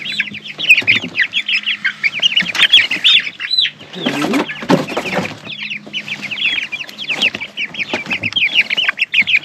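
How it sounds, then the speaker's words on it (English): Chickens cluck in a backyard homestead coop, a near, busy chorus of overlapping clucks and calls with bursts of wing flapping and scuffling partway through, and no talk. "Chickens are scared of the dark."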